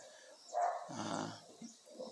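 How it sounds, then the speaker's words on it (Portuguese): Dogs bark outside, a few short muffled barks and yips from some distance before dawn, faint against quiet room tone. "minhas cachorras estão ali latindo, então se os irmãos ouvirem, são elas ali latindo para os outros da rua"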